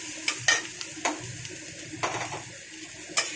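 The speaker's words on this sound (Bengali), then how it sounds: "তো পেঁয়াজটাকে হালকা করে ভেজে নেব" Chopped onion with minced garlic fries lightly in a pan, giving a steady soft sizzle broken by repeated scraping stirs of a spatula, close and moderately loud.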